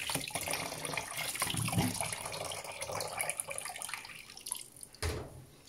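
Water gushing from the drain hose of a Panasonic Ag+ 16 kg washing machine after its spin cycle, a steady close splashing flow that briefly thins and then surges again near the end.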